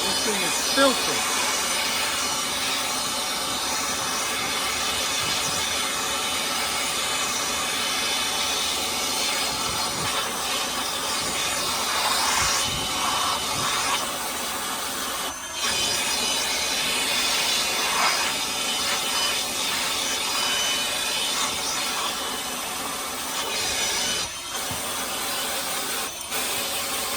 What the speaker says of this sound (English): So I'm gonna use my blower and we'll see how much dirt comes out of this thing.